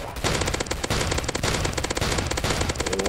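The Annihilator weapon in the Roblox game Zombie Attack fires in a dense, rapid burst of repeating shots that stays loud and continuous throughout.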